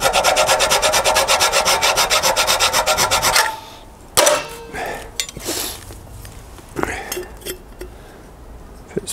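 Hand file rasping across a cut piece of unistrut metal while making a boiler tool, a rapid, even run of loud rhythmic strokes lasting a few seconds close up, then clinks and handling with some talk.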